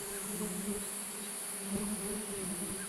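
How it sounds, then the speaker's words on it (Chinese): Swarming bees fly around a row of beehives blocking a roadside path in rural Taiwan, a steady close buzzing drone that carries on without a break. "前方的道路被一排风箱挡住，蜜蜂在空中穿梭飞舞。"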